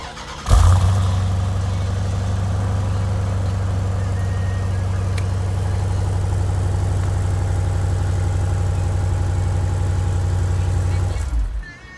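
A 2018 SRT Grand Cherokee engine cranks and catches with a brief flare, then settles into a steady, smooth, fairly quiet idle that holds for about ten seconds before cutting off.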